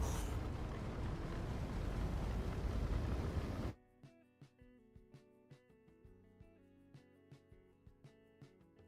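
A loud, steady roar of a Star Citizen spaceship engine fills the first few seconds, then cuts off abruptly, leaving quiet scattered clicks and soft tones.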